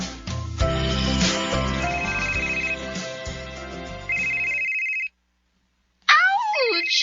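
A cellphone ringtone plays loud and close as a repeating melodic tune, cuts off briefly, then starts ringing again.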